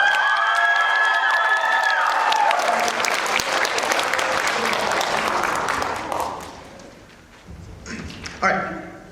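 A crowd applauds loudly with some cheering, the clapping gradually thinning out, then a voice and a brief renewed burst near the end.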